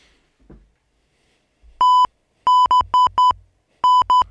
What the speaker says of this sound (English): I got my beep button back.